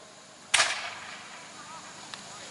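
One sharp musket shot at the Great Bridge 2025 battle reenactment cracks out at a distance and trails off in a fading echo, followed by a much fainter second report.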